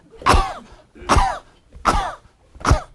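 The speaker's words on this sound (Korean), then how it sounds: "치면서 기침을 최대한도로 하도록 하겠습니다." Four hard, forceful coughs in a cough-CPR demonstration, where people cough while pounding a fist on the chest. The coughs are evenly spaced, close and loud, with short silent gaps between them.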